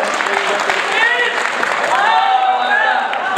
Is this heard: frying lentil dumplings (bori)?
no